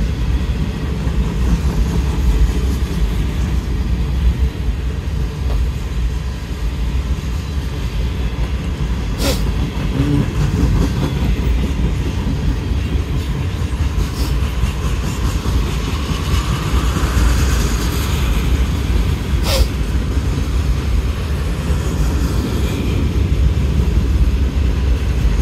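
Norfolk Southern northbound mixed manifest freight train on track one, rolling past near the historic Glendale station. A loud, continuous rumble and clatter of railcars fills the whole stretch, with steady wheel and coupler noise and occasional sharp squeals or bangs.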